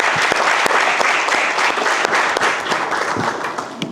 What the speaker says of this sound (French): Applaudissez-vous déjà pour ça.